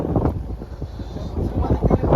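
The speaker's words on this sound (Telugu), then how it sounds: "గాలి గాలి మాత్రం మామూలుగా లేదు" Gusty wind on a boat buffets the microphone in heavy low rumbles, loud and close, with a faint voice partly buried underneath.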